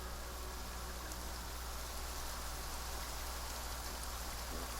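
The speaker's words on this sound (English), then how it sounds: "It's raining." Steady rain falling at night, a dense, even hiss of drops on surfaces that holds at a constant level throughout with no other sounds.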